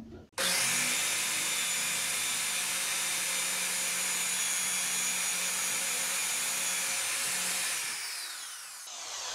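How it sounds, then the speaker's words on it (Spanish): A power drill whines loudly and continuously for several seconds, boring a hole into wood for a cabinet handle with a gritty buzzing tone, then winds down and stops. "Hacemos la segunda perforación."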